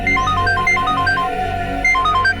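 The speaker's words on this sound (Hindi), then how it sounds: "ये फोन क्यों नहीं उठा रहे हैं?" A phone plays a repeating melodic electronic ringtone that goes unanswered, loud and close, with a steady hum underneath and no talking.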